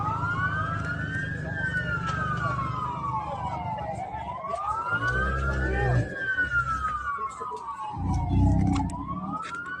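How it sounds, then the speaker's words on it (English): Wailing ambulance and police sirens rise and fall in long sweeps, with traffic rumble and occasional voices underneath, responding to a mass shooting in Australia. "You can hear ambulance and police sirens."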